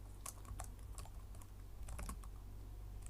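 Quick, light keystrokes tap out a short search on a computer keyboard, a scattered run of soft clicks over a low steady hum, close and faint, with no one speaking.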